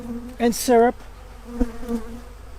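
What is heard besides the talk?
honey bee foragers buzzing around beehive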